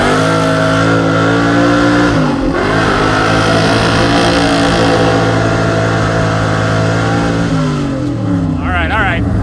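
A Mopar muscle truck fitted with a junkyard van manual transmission accelerates hard at full throttle, its engine droning loud and close, climbing through the revs, dipping briefly at a gear change, then pulling again.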